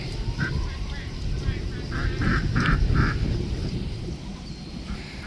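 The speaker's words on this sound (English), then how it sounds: "she got more ducks." Ducks quack in a short series of loud, nasal calls close by, over a rumbling, breezy background.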